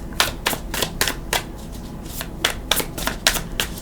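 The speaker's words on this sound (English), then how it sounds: "I am going to shuffle for your cards" Tarot cards are shuffled close up in a quick series of crisp riffling bursts, about a dozen sharp flutters at an uneven rhythm, with no talking over them.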